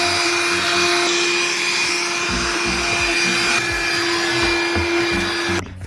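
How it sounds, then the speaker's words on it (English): A small handheld dust buster vacuum runs in a dorm room with a loud, steady high whine and airflow roar, holding constant for several seconds before cutting off at the end. "I have this little dust buster we have in our room."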